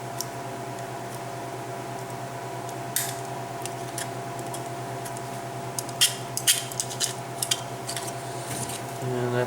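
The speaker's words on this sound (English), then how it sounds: "Trim those down just for looks." Scissors make a few close, crisp snips while parts are trimmed on a Bruder bulldozer being converted to RC, heard over a steady electrical hum.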